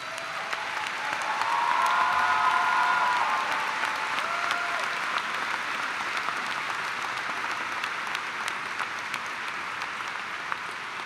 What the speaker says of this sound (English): I would ask first the faculty please to rise so that you graduates might salute them and thank them with your applause.